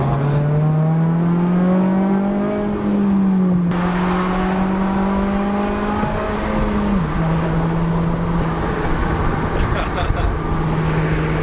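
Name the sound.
Honda Civic Si engine revving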